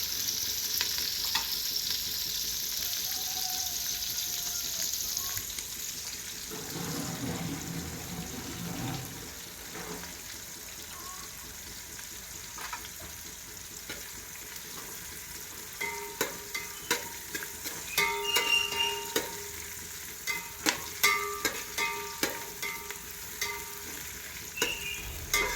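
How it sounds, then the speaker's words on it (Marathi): Red onion browning in a pan with oil at home, a soft continuous sizzle that swells later into louder scraping and clattering stirring strokes, with a short burst of running water partway through. "एकदम लाल कांदा भाजून घ्यायचा"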